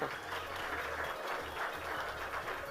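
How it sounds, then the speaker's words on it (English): An audience claps for recipients at a certificate of comfort distribution ceremony, a steady, moderately quiet patter of many hands in a hall with some talking mixed in. "And give them a round of applause as well."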